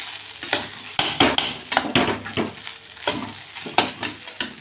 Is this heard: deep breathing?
no